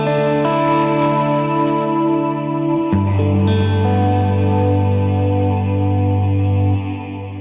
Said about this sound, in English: this now gives you the access to the Cloud reverb